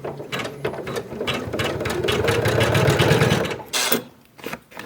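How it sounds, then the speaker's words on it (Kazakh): An embroidery machine stitches an appliqué, its rapid rhythmic needle chatter running close and loud, briefly pausing and then restarting near the end. "Енді вышивканы жалғастырамыз."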